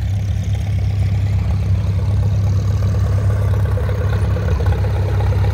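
An antique Farmall, Oliver, Earthmaster or Hart-Parr tractor engine chugs along steadily at idle, a loud, constant low rumble with no pauses.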